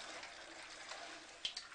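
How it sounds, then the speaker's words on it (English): Cold tap water runs into a glass from a Kangen water machine, producing a steady, soft rushing flow with a couple of brief splashes near the end. "So I'm just going to turn the water on."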